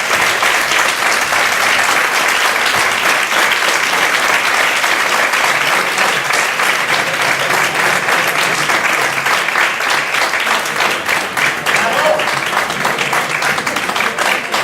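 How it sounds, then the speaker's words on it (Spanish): Loud, steady audience applause at a mystery-themed congress, a dense unbroken wash of many hands clapping that holds throughout without any talk. "el fuerte aplauso que se ha agradecido antes"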